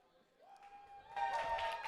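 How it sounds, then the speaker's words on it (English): A tournament crowd at a KOF XV fighting-game grand final swells into cheering partway through, rising from a quiet murmur to a loud, sustained roar, with a voice audible beneath. "Crowd coming alive."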